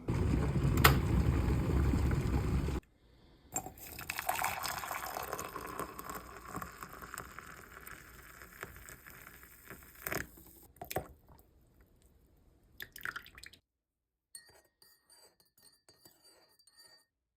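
Instant coffee being made with soy milk in a kitchen: a loud rushing pour or kettle at first, then clinks of a spoon and mug, soft stirring and scattered taps, close with no talk.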